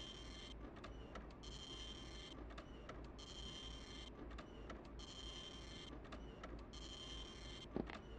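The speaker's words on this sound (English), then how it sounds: "It's not a fax machine noise, by the way. It's a printer noise." Printer noise in the 1996 video game Clock Tower, a faint repeating mechanical whirr in regular pulses over a low steady hum, with no talking.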